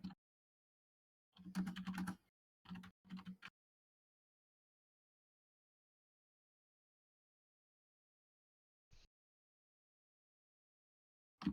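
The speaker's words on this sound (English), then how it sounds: "While Izzy is typing" Quiet, close typing on a computer keyboard comes in two short bursts of clicks, then a long silence broken by a single faint tap.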